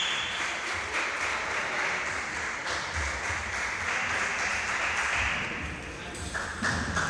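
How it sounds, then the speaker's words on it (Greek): A dense, steady wash of applause from Aris Nikaias fans in a basketball arena during a men's A1 game, loud and continuous with faint taps and thuds mixed in. "Χειροκροτήματα από τους φίλους του Άρη Νικαίας"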